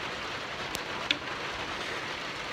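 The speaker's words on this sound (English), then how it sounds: "Show you how hard it's raining." Rain falls hard outdoors as a steady, fairly quiet hiss, broken by a couple of sharp drip or tap sounds close by.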